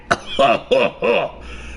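A single cough during a live stream: one sharp burst followed by three rough, throaty expulsions in quick succession, close to the microphone and loud.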